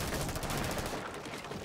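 Rapid bursts of video game gunfire crackle continuously, dense and fairly loud, with volleys overlapping throughout.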